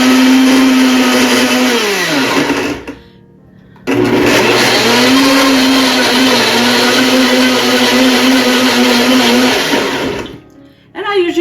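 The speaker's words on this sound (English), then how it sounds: "Go ahead and just blend that." A blender whirs loudly and close while mixing a monk fruit drink, running in two long bursts with a pitch that drops as it spins down, separated by a short pause and ending in a brief final pulse.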